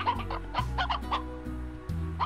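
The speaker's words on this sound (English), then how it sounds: "How about my chickens?" Chickens in the video game Slime Rancher cluck in a quick run of short, close, bright calls with brief gaps between them.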